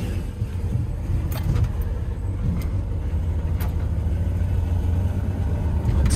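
A truck's engine rumbles steadily as it pulls away in first gear, a continuous low drone with faint mechanical clicks on top and no talking.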